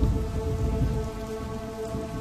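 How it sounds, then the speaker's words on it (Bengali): Cartoon sound effect of a heavy rainstorm at night with rumbling thunder, a dense, steady roar of rain on surfaces with a low rumble underneath, loud and continuous throughout. "এই ঝড় বৃষ্টির মধ্যে রাস্তা দিয়ে হেঁটে যেতে প্রচণ্ড অসুবিধে হচ্ছে কানুর।"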